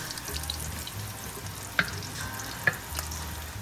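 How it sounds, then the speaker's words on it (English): Bacon grease sloshing as the frying pan is tipped to drain it, a soft close stir and trickle with a couple of sharp metallic clinks, quiet and without talk. "now she's going to drain some of that grease out of that bacon"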